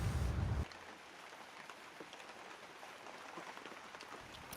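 Rain falls steadily on a tent at a mountain camp in Ladakh, a soft, even patter with scattered faint drops throughout and a brief low rumble at the start.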